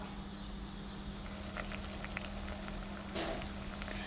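Coconut milk sauce boiling in a pot for a Thai galangal-coconut sauce gives a steady, close bubbling simmer with small pops and gurgles throughout, with no talking.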